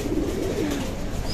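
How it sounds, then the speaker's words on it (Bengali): Pigeons just released from their coop give soft, low cooing calls against a quiet outdoor background. "কবুতর সব বামে চলে গেছে।"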